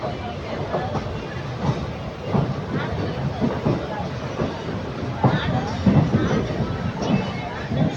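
A passenger train running fast near Tiruchirappalli junction, heard from inside as a steady rolling rumble with rhythmic wheel clatter, under low murmuring voices and babble of other passengers.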